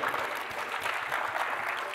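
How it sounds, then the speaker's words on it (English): A workshop audience at a climate advocate training in a DC hotel gives a steady round of applause, a dense wash of clapping that stays level and fairly distant for the whole stretch. "Let's give each other a round of applause for making it to DC"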